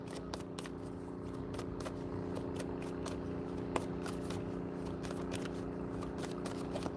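Tarot cards are shuffled by hand in a steady run of soft riffling snaps and slides. A low indoor hum sits underneath, and no one speaks.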